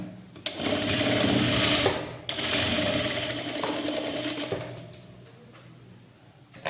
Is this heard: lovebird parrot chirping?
no